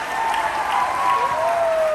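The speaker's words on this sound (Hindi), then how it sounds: "तालियां बजाना तो जोरदार तालियां आप लोग अपने लिए बजाइए।" An audience at a program in a hotel hall applauds loudly for itself, with dense, steady clapping throughout and a sustained tone running beneath it.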